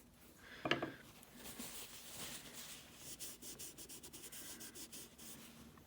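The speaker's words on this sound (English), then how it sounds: "you can use your eraser to pull out those bright highlights that you may see" An eraser rubs back and forth on drawing paper to lift highlights in a pencil drawing of a nose, close scratchy strokes after a brief sharp tap, growing into a rhythmic scrubbing toward the end.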